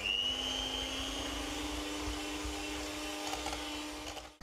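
A kitchen machine runs a continuous, steady motorized whine while mixing a smoked ham filling for a pasta dish. It sounds close and even for about four seconds, then winds down at the end.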